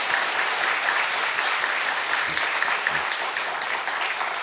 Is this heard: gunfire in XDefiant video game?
no